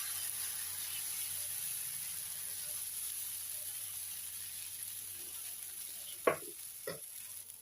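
Ghee sizzles faintly under a pesarattu, a green gram dosa, on a hot pan. It is a soft steady hiss, broken near the end by two sharp close clinks from a utensil.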